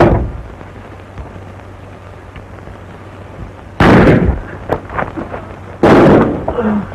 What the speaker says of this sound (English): I will shoot you.